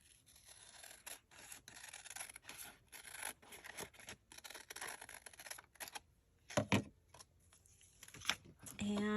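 Scissors snipping and rasping through paper while the top of a journal card pocket is trimmed, close and soft, with irregular cuts, rustling and a few sharper snips near the end.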